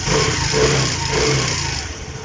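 A Honda Activa 5G scooter engine runs steadily at close range just after its carburetor has been tuned during a full service, a continuous even hum with no talk.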